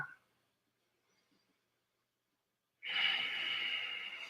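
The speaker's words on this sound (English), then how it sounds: "let me take a couple of deep breaths" A person takes a deep breath close to the microphone, a loud, breathy rush of air that comes in after a near-silent pause and carries on to the end.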